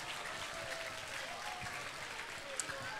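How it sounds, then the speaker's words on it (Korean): An audience at a Christmas Eve celebration claps in a soft, distant, steady patter that stays low and even throughout. "선생님 나오실 때 박수로 맞이해 주시기 바랍니다"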